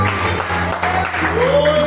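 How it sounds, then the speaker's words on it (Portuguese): A church congregation claps together during a worship service, a fairly loud, continuous patter of hands over a low sustained hum and a faint gliding tone, with voices present underneath. "As palmas glorificam o nome de Jesus."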